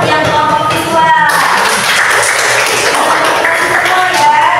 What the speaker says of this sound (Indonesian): Oke, tepuk tangan untuk yang kelompok visual.